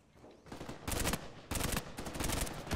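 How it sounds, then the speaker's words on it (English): Rapid bursts of automatic gunfire in an Uncharted 4 online multiplayer match, loud and close, with several sustained volleys following one another over a few seconds. "shoot this Drake dude who's up on this house"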